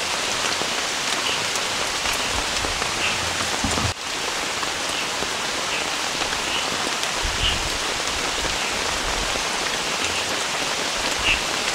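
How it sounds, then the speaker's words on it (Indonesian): Heavy rain pours steadily on a camp beside a river, a dense, loud hiss of drops drumming on surfaces throughout, with a brief dip near the start and occasional low rumbles of wind. "soalnya hujannya tuh gede banget, tambah sama angin sama geluduk atau petir"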